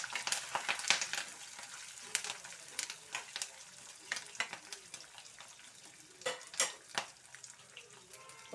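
Peanuts, green chillies and curry leaves fry in hot oil for a wheat rava mango pulihora, giving a steady crackling sizzle broken by sharp pops and spatters throughout, with no speech.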